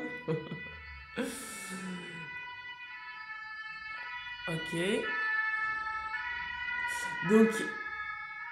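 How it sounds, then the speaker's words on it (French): A passing emergency vehicle siren wails steadily through the whole stretch, moderately distant, while someone speaks French in short bursts over it. "Alors attendez, je laisse passer la sirène."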